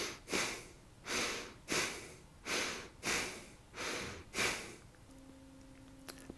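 A person demonstrates shallow, flat breathing as if the diaphragm were blocked: seven short, evenly spaced breaths about every 0.7 seconds, close and clear, followed by near silence with a faint tone.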